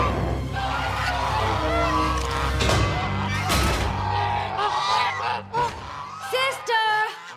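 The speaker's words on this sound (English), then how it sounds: "Another false alarm from Shining Armor's guard geese." Cartoon guard geese from My Little Pony: Friendship is Magic honk a false alarm, their nasal calls breaking through a dense mix of orchestral music and other sound effects, loudest near the end.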